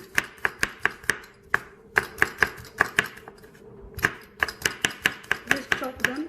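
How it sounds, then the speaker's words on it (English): Garlic chopped with a knife on a board in a home kitchen, a fast run of sharp, close knocks in steady bursts, a short pause, then another quick series of even chops, with no talking. "Just chop them."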